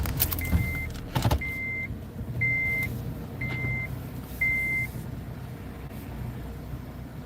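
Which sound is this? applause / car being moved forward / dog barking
car being moved forward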